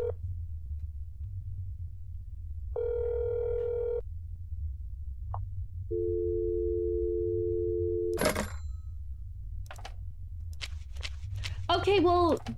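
A telephone call rings in the video game That's Not My Neighbor. Two separate electronic tones sound, each lasting over a second, with silence between them. A person talks off and on after the tones.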